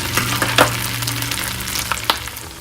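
Black pudding (blood sausage) sizzles and spits steadily in a hot frying pan, with occasional louder pops and crackles, close up, no voices.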